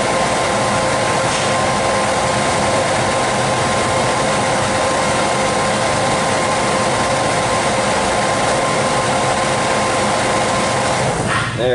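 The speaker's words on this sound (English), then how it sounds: "Transfer pump is pumping down" A transfer pump and its motor run with a loud, steady mechanical drone and tonal hum that holds unchanged, then a brief shift right at the end as it shuts off.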